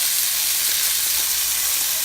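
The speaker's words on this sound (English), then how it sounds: "It's about a minute or two on the side, and then you just let it sear." Steady, dense sizzling of chicken searing in a hot pan, a continuous close hiss with no talking.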